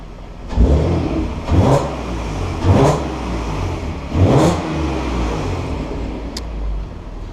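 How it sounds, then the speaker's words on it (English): A Mk5 VW Golf R32 engine revs loudly four times in a row, each rise and fall of the throttle distinct, then settles back to a rumbling idle. "I'll give it a bit of a rev for you."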